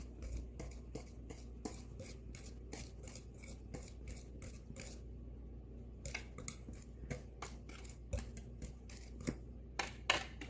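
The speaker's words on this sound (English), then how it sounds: "So we're just going to take a second to whisk all of those together." Dry ingredients with cornstarch whisked in a bowl, producing quick rhythmic scratchy strokes of wire against the bowl, close and quiet with short pauses between bursts.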